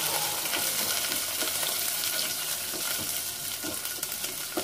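Onion and chili sauteing in a hot pan, a dense continuous sizzle and crackle at close range with no talk, holding steady throughout.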